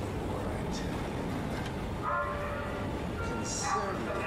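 A train rolls through an underwater research facility in the video game SOMA, a steady low rumble of rail travel with faint tonal squeals, heard fairly close and continuous without talk.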